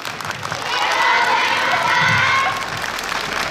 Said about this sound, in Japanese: チーム専門の皆様に今一度大きな拍手をお願いいたします。